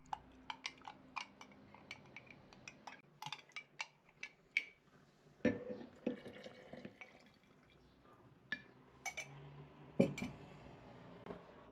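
Warm water drips and splashes into a glass measuring cup for sourdough bread, in quiet, uneven bursts, with small clinks of glass up close.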